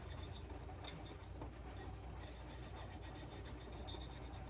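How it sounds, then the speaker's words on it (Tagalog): Fruit skin scrubbed by hand to strip off its wax coating, a continuous close raspy rubbing with repeated strokes, fairly faint and with no voices. "Scrub ko na lang para matanggal yung wax."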